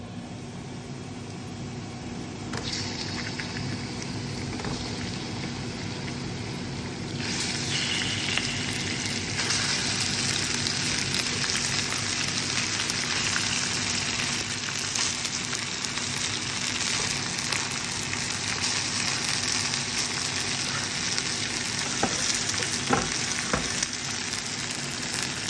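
Pork pieces frying in a hot pan for Filipino adobo give a dense, steady sizzle that swells louder partway through and keeps crackling without any talk.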